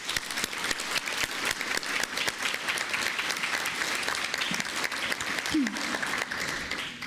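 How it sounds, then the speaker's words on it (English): A crowd at a New York State dairy ambassador competition breaks into sustained, even applause that continues throughout with a dense patter of clapping, and a voice is briefly heard under it. "One more round of applause."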